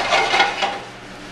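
Diced vegetables tipped into a saute pan, giving a brief clattering rush with soft sizzling as they land and settle.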